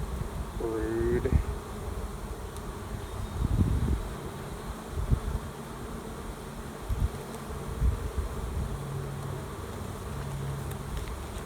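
Honeybees drone steadily around an open hive, a dense close buzzing that fills the whole stretch, with faint rustling and a few soft handling knocks underneath.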